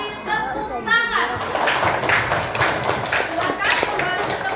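Children in a classroom clap after a robot activity, scattered taps and claps with running feet and kids' voices overlapping throughout.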